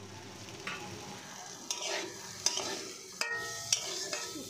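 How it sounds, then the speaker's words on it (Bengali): Potatoes fry in a pan in a Bengali home kitchen, a low sizzle broken by several sharp stirring scrapes and clinks, with no talk. "আর এখানে আলু ভাজা দিয়েছি"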